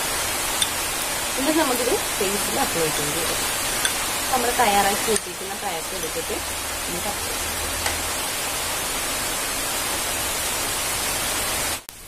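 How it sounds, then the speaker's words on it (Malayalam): Rain falls outside, a steady, even hiss that runs the whole time, heard from indoors beneath a person talking. "അപ്പൊ പുറത്ത് മഴ പെയ്യാണ്,"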